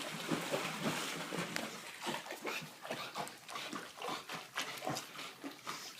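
A dog swimming makes repeated snorting, whimpering breaths and splashy noises, close and fairly loud, in an irregular rhythm of short bursts with no talk.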